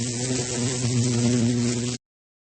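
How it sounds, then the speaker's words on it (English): A bumblebee makes a steady, close, low-pitched buzz that lasts about two seconds and then cuts off suddenly. "This is a bumblebee."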